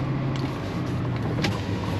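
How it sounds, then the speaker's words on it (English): BMW with an M62 V8 engine, a six-speed car, heard driving away as a steady broadband engine and road rumble, fairly loud and even throughout, with no talking. "And the car sounds fantastic"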